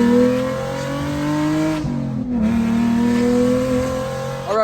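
An Infiniti G37 with an ISR single-exit exhaust revs hard up close, rising and falling through several loud pulls with a short lull between them.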